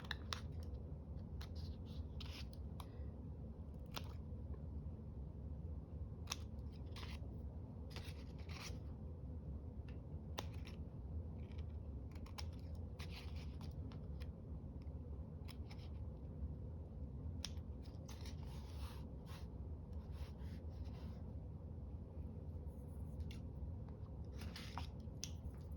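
Scissors snip through paper while a junk journal border is trimmed, a quiet run of close, crisp cuts and rustling strokes with short pauses between them.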